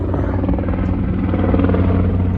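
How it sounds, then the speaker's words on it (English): A helicopter passes overhead near a bayshore mudbank, a loud, steady throbbing rotor chop with engine hum filling the whole moment, no talk over it. "as soon as this helicopter passes"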